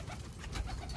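Pigeons coo softly inside a breeding setup, a low murmuring burble over faint background noise, brief and not especially close.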